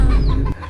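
Chickens clucking close by, loud and steady across the short moment, with a farmyard flock sound and no speech.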